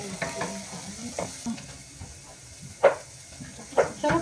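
Chayote, onion and tomato frying outdoors in a pan, a quiet sizzle with soft stirring scrapes and two sharper clacks near the end.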